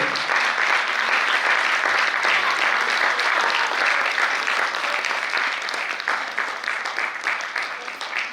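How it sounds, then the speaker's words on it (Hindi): An audience applauds steadily as performers come onto the stage at a theatre production, a dense, sustained wash of clapping that holds loud for the full stretch and eases slightly near the end. "सभी कलाकार मंच पर आए, जोरदार तालियों से स्वागत करें।"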